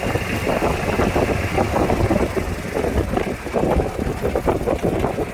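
A vehicle rolling slowly along a bumpy road in south Ambergris Caye, a loud, continuous low engine rumble with rattling and jolting bumps, plus buffeting wind noise throughout.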